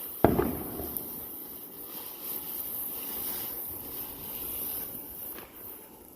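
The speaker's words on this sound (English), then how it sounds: "I don't know if you guys can see any of these fireworks, but Look at all the smoke." Fireworks going off outdoors, one sharp close bang at the start followed by a long crackling hiss and a faint later pop in the distance.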